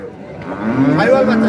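A Sahiwal cow at a livestock market gives a close, drawn-out moo that rises and swells over about a second, amid market noise.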